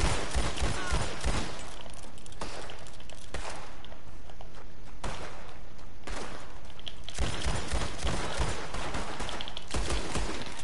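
Revolver shots in a video game ring out in repeated loud bursts across the clip, with several sharp broadband cracks over steady game ambience.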